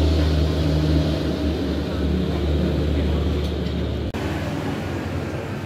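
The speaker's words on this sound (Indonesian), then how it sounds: "knalpot yang kiriman dari Palembang nih, kita cek sound dulu di motor ini nih sama Mio" A Yamaha Mio motorcycle idling with a custom aftermarket exhaust, a steady low rumbling drone close by that holds evenly throughout with a brief dip near the end.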